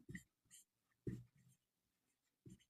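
Quiet strokes of a pen or marker writing out a Class 10 math solution, several short scratchy bursts in an irregular rhythm, close and faint.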